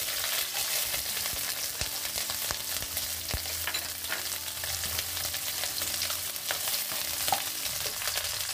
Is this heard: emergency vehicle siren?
no